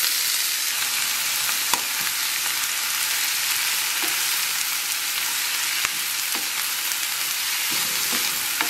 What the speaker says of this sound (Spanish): Ya le voy a poner las calabacitas, cebolla, y tomate y chile.